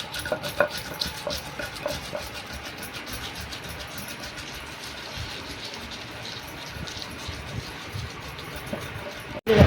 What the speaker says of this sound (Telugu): ఈ రకంగా మెత్తగా నూరుకోవాలి